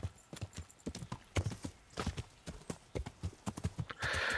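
Horse hooves clip-clop steadily in Kingdom Come: Deliverance as the mount travels through woods, a close, rhythmic run of hoofbeats that ends in a brief burst of rustling noise.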